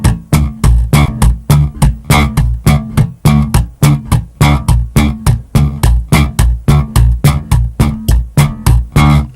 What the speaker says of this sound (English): taking the hand and slapping up against the strings